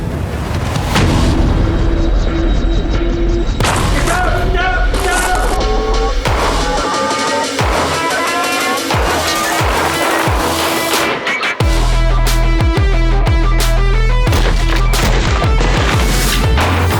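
Gunfire during military-style shooting evolutions, heard amid loud layered dramatic music: repeated sharp booming shots and bursts throughout, dense and continuous.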